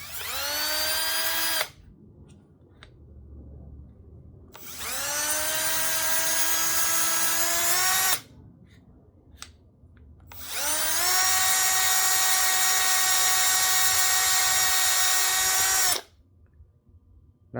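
A wood lathe trimming a pen blank spins up three times in long, close, high-pitched whining runs with harmonic tones, separated by short pauses of quiet.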